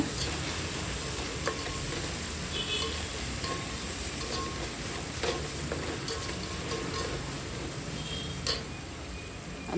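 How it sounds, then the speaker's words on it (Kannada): Coriander frying in a pan with ginger garlic paste for chicken dum biryani, a steady close sizzle punctuated by scattered clicks and scrapes of stirring. "ಈಗ ಕೊತ್ತಂಬರಿ ಹಾಕ್ಕೊತಾ ಇದ್ದೀನಿ ಅದು ಸ್ವಲ್ಪ ಫ್ರೈ ಮಾಡವ"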